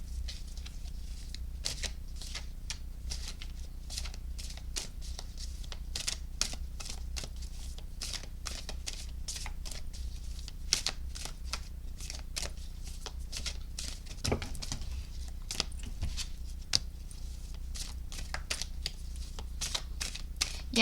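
Tarot cards shuffled by hand over about twenty seconds, a steady stream of close, crisp riffling flicks and soft paper slaps under a faint background hum, with no voice.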